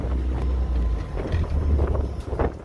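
Honda Civic Ferio driven on a cold day without a windshield, strong rushing wind buffeting the microphone with a low rumbling roar, loud and close, no talk.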